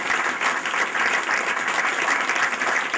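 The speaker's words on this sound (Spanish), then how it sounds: "Y ahora voy a pedir un aplauso para otro." An audience claps loudly and continuously, dense, even applause filling the whole moment with no pauses.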